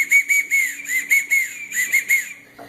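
A DOA X duck whistle blows a widgeon call, a string of about a dozen sharp, high whistled peeps in quick rhythmic bursts, loud and close with no voices.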